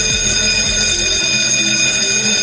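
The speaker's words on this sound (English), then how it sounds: "the fire alarm bell will be ringing" A loud, continuous alarm bell rings steadily throughout with a buzzing metallic tone, while a few low rumbling thuds sound underneath early on.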